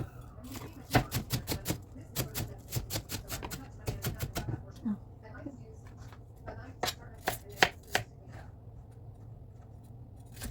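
An onion is chopped on a cutting board with a knife, making crisp, close taps that come in quick rhythmic bursts with short pauses between them.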